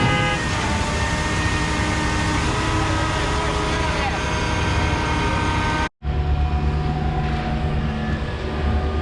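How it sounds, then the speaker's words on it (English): Heavy diesel engine rumble of a concrete truck pulling up at a house-slab job site where concrete is being pumped, loud and steady with a brief dropout partway through, and a voice heard faintly. "All right, first truck's here."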